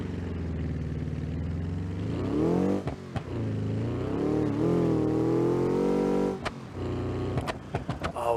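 A car engine in the driving game BeamNG.drive revs up and holds high, a harmonic-rich roar climbing in pitch, with sharp clicks from shifts or bumps and a second rev near the end.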